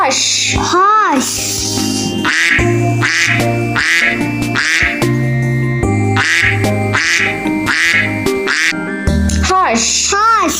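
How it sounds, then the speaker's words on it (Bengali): Duck quacks, loud and repeated in a steady rhythm of nasal calls, set against a voice and a bright musical backing throughout. "হাঁস হাঁস"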